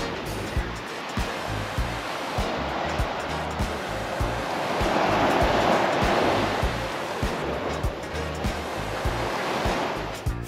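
Ocean waves wash continuously onto a Fiji seaside shore, a broad steady roar of surf swelling louder midway, with breezy wind noise and no talk.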